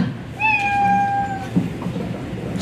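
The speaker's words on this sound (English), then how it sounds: "So now you know why Grandpa and Toto, the cats, are with us" A domestic cat lets out a single clear, drawn-out meow that rises slightly and then holds steady for about a second. It sits over a soft background hum, with no one speaking.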